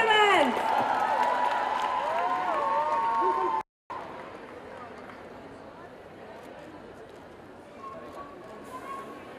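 Audience applause and cheering at a Zumba fitness event break out after a short musical passage, a dense, steady clatter of clapping from a large crowd that carries on for several seconds with faint voices mixed in.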